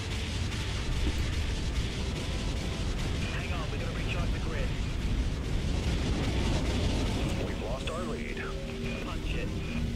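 Heavy warship cannon fire from the naval combat game Dreadnought, a dense rumbling barrage of booming blasts sustained throughout, with a commentator talking over it.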